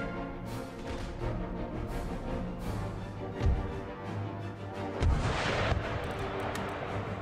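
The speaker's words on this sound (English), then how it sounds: "there go the garrison mortars" Garrison mortars fire in the Empire: Total War strategy game, two heavy booming thumps a couple of seconds apart over a steady rumbling battle din with scattered musket-like crackle.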